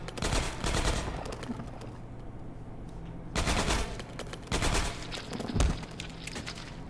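Loud automatic gunfire from the Half-Life 2: Episode One video game, played with the MMod modification, comes in several rapid bursts and volleys separated by short pauses, with no talking.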